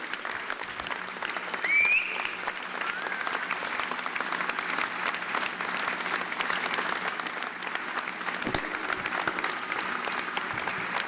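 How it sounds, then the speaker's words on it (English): Audience applause at a labor appreciation event in the Meadowlands, a sustained loud wash of clapping from a large standing crowd, fairly close and even from start to finish. "Give them a round of applause."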